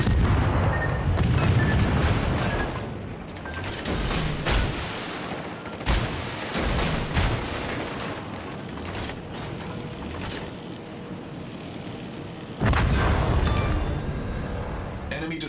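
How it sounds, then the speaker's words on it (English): A destroyer warship blowing up in a naval combat video game, heavy booms and rumbling blasts repeating through a dense battle soundscape, with a loud burst near the end. "Destroyer blown up."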